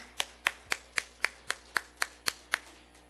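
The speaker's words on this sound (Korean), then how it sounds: "우리 하나님께 영광의 박수 같이 올려드리겠습니다" In a Korean church service, a few hands clap slowly and evenly, about eleven distinct crisp claps with a steady beat, faint and somewhat distant, with no voices.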